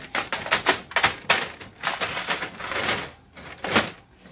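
Epson WF-7720 inkjet printer feeding oversized paper, with rapid uneven clacking and ticking bursts close by, pausing briefly, then a few more mechanical taps.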